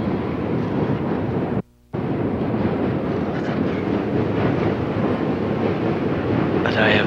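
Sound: train moving on rails

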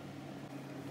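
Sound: microwave oven running to melt the mixture

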